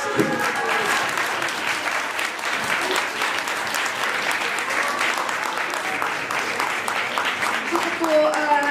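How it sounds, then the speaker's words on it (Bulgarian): Sustained audience applause fills an award ceremony hall for the Business Woman of the Year 2014 event, steady dense clapping from a large crowd throughout, with a few faint voices mixed in. "Доктор Ружа Игнатова се наслаждава на вашите аплодисменти"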